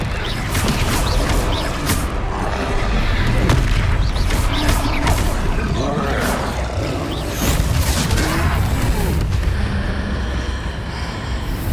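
A Descendo spell slams a troll in the Hogwarts Legacy video game with loud booming crashes and heavy impacts over a dense, continuous combat soundscape.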